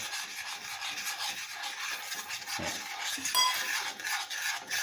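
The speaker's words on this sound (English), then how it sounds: "And keep stirring it and stirring it and stirring it." A spoon stirs melted butter and sugar in a pan, giving a continuous close scraping and rubbing sound with small clinks, steady and fairly quiet, with no talking.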